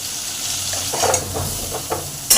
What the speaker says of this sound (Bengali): ভালো করে পাঁচ মিনিট আলুটাকে আগে নুন তেলের মধ্যে কষে নিলাম